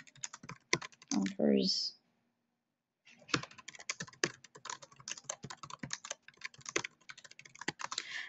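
Someone types on a computer keyboard while filling in a meta description, with quick bursts of close key clicks, a brief spoken word early on, a pause of near silence, then renewed irregular tapping.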